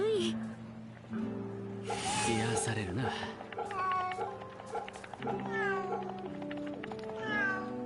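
A cat meows repeatedly in varied, drawn-out and rising calls while being petted in Fate/Samurai Remnant, heard over soft in-game background music and ambience.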